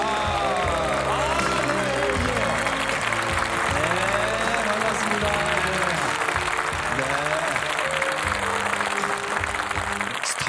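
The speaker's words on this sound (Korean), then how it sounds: "여러분 박수 보내주세요" A studio audience claps steadily throughout, a dense, sustained round of applause for a KBS broadcast feature on the Army Baekgol unit, with a voice speaking over it.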